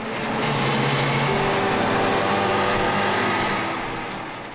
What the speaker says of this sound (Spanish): El traqueteo de los motores de dos tiempos dominaba en la RDA